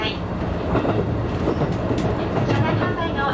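The JR rapid Resort View Furusato train runs on the Shinonoi and Oito lines, giving a steady rumble with a faint clickety-clack of wheels over the rails, heard from on board at constant volume.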